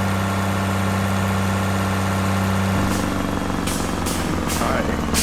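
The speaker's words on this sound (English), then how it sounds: "Oh, that truck's moving a little slow." A truck engine in the video game Farming Simulator 25 drones in a steady low idle throughout, its tone shifting slightly partway, with a person talking over it.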